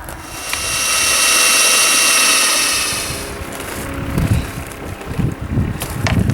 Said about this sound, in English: what I'm going to do is I'm going to drill through here, which will go through this hanger here